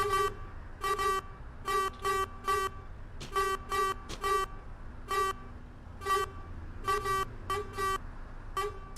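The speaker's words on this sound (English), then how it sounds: "That horn sounds like it's a circus." A bus horn in the OMSI 2 bus simulator, on an Enviro 400 double-decker, sounds in short repeated toots in uneven clusters, loud and close, with a low engine rumble underneath.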